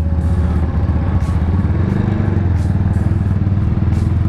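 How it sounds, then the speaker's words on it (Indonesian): A motorcycle ridden slowly while its engine warms up gives a loud, close, steady rumble with faint clatter, and there is no talking. "Ini kita pelan aja dulu yo sambil ngangetin mesin yo"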